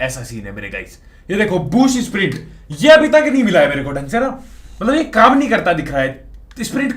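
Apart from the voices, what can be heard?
None of the usual background noises is heard.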